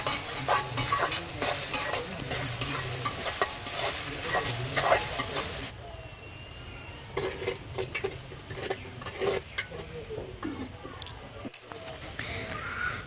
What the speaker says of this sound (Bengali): আর এখন হচ্ছে পেঁয়াজ রসুন এগুলো আমি ভালো করে ভেজে নেব।